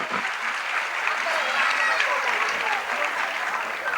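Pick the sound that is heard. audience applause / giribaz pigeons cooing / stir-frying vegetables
audience applause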